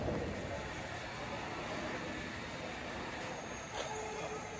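A commuter train heading toward Tumba, a steady loud rumble of wheels on rails with a faint high squeal running above it, continuous with no voices.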